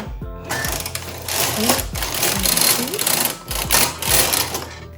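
Knitting machine selecting needles while knitting a cow print pattern in aqua yarn, loud close clattering carriage passes with rhythmic mechanical clicks and rattles.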